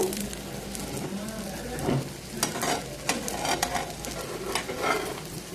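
Three-egg omelette frying in a pan, a steady crackling sizzle with soft scraping and stirring touches, fairly close and alone without talk.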